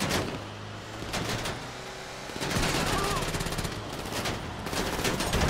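Rapid bursts of gunfire from GTA 5 Online crackle loud and close, with a low engine hum underneath in the first half before the shots grow denser and more sustained.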